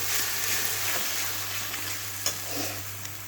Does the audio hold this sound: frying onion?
yes